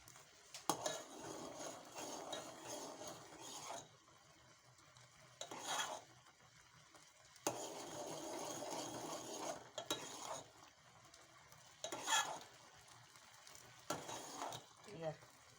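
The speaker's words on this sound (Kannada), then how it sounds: "ನೋಡಿ ಎಷ್ಟು ತಿರುಗಿದ್ರು ಒಡೆಯಂಗಿಲ್ಲ" A pot of rice-flour vermicelli kheer simmering in milk is stirred with a spoon, giving intermittent scraping and clinking bursts against the pot, separated by quieter gaps.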